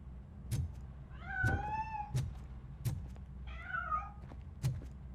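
A cat escaping in the video game RoboCop: Rogue City gives two distinct, fairly close meows. Regular sharp clicks or footsteps sound over a low game ambience.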